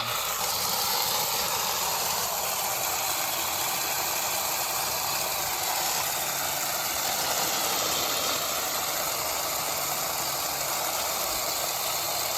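A Yard Works two-zone water timer runs an automatic lawn sprinkler, giving a steady, continuous hiss of spraying water with no break and no voices.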